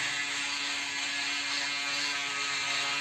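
A Braun 3010s electric shaver running, a loud, steady, high buzzing whir with a constant mechanical rattle that holds unchanged throughout, close to the ear with no talk.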